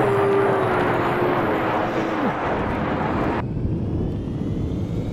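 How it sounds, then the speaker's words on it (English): A helicopter in Battlefield 3 roars as a loud, steady, dense engine and rotor wash throughout, with a falling whine partway through and a sudden change in tone near the end. "Everyone's gonna rush for the helicopter, even me. I'm already in this."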